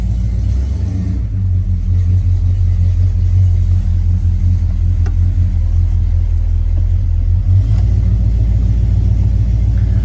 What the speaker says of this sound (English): motor sounds nice and strong, as I expect that 455 to sound